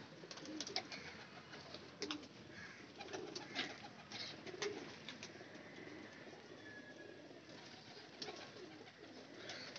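Royal Teddy pigeons at a bird sale in Lahore coo softly at moderate distance, with occasional wing flaps and light chirps over a steady background hum.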